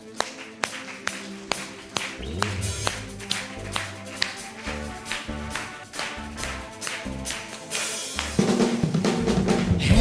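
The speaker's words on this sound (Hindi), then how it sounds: "आइए मेरे साथ ताली बजाइए।" Sharp, rhythmic hand clapping keeps a steady beat along with worship music at a Hindi church service, the claps loud and regular over a full backing.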